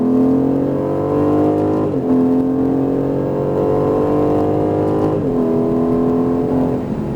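An Aston Martin Vantage on a race track accelerates hard, its engine note rising steadily through the gears with two brief dips at the shifts, loud, close and continuous throughout, with no talk.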